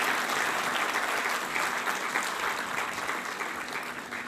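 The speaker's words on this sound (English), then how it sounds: "I will request the whole audience to give a grand applause to both of the speakers" A conference audience gives a sustained round of dense, even applause at the end of a session, fading slightly toward the close.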